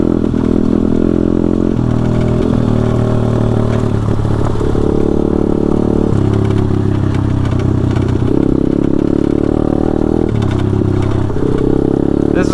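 A pit bike with loose, faulty suspension ridden hard, its mid-pitched engine droning steadily and rising and falling with throttle shifts, with intermittent rattling clatter throughout, loud and close.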